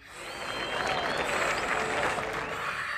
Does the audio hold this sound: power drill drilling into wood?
no